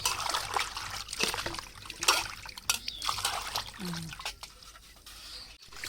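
Small fish are washed by hand in salted water in a village setting, with irregular splashes, dribbles and scrubbing sloshes close by. Occasional faint sounds are heard in the background.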